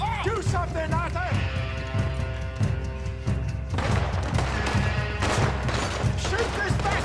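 Gunfire in the video game Red Dead Redemption 2, repeated sharp shots and booms crackling under loud, excited character voices and shouting amid a dense, chaotic battle soundscape.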